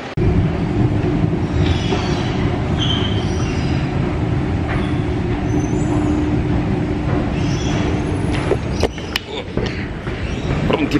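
A Milan metro train runs underground with a loud, steady rumble of wheels and car noise throughout, and sharp squeals and clicks near the end.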